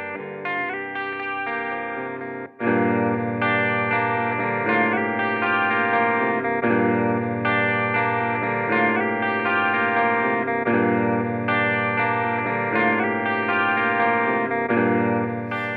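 A Montreal Assembly Count to Five looper pedal plays back a sample over four seconds long that wraps around and overlaps itself, producing a dense, continuous layered musical loop with a brief dip and restart near the beginning, steady and loud throughout.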